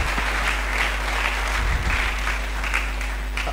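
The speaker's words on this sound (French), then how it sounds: "Acclamons très fort." Loud, sustained applause from a church congregation during a sermon, dense clapping filling the room without a break, with a faint voice underneath.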